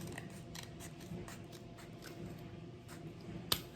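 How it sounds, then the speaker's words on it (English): Scissors snip through paper towel roll cardboard in a few quiet, close cuts, with soft crisp clicks and one sharper snap near the end. "I'm just gonna need to cut just a smidge off, and that's pretty much a straight cut"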